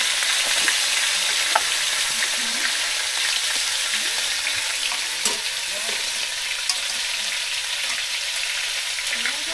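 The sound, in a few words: fish frying in a pan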